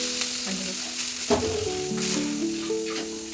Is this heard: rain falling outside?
no